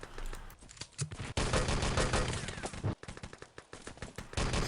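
Rapid automatic gunfire from the shooter game Enemy Territory during a 6-on-6 LAN tournament match, dense bursts of shots crackling continuously with brief pauses, loud and up close.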